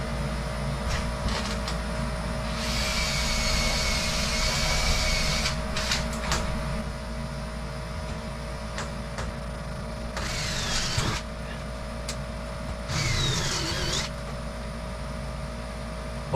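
A struggling air compressor straining to keep pressure runs as a steady loud drone with a mechanical hum, while bursts of hissing air come and go over it.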